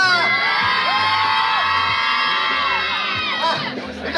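A dense crowd screams, whoops and cheers loudly and continuously at a K-pop dance busking performance on the street in Hongdae, Seoul, with children's high shrieks prominent throughout.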